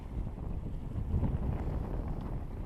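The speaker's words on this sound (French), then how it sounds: "là on fait tourner un peu le moteur, ça va recharger un peu pour la nuit" A sailboat's inboard engine idles at anchor off Île d'Oléron to recharge the battery, a steady low rumbling drone mixed with gusty wind buffeting the microphone, with no talk.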